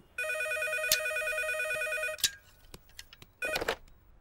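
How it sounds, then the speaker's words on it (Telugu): A telephone rings inside a room with a bright, steady electronic ring that sounds for about two seconds, stops after a click, then returns in a shorter burst, close and clear with no talking. "ఈసారి ఫోన్ మోగుతుంది మన రూమ్ లోనే"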